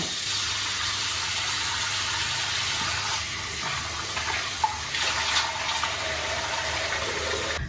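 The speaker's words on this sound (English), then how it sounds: "So I'm gonna wash my face now." Water runs steadily from a sink tap as someone washes their face, a constant hissing stream with faint splashes and handling sounds mixed in.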